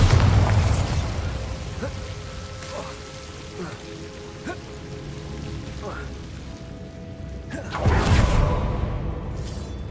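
Spell explosions from Bombarda cast in Hogwarts Legacy, with a big rumbling burst near the start and another late on, separated by smaller pops and crackles over a steady low game ambience.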